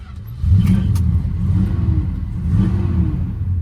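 A 1969 Dodge Charger engine revs up from idle into a close, deep rumble that swells and eases over a few seconds, heard alone.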